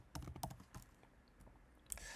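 Quiet, close keyboard typing as SQL code is entered, a short run of uneven key clicks with small pauses between keystrokes.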